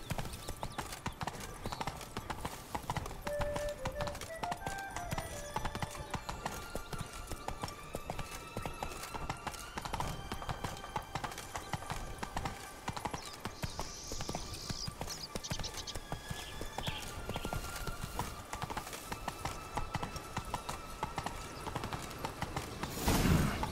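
A horse trots in The Witcher 3: Wild Hunt's Blood and Wine expansion, with steady rhythmic clip-clopping hooves and occasional snorts over game ambience and music, all the way through.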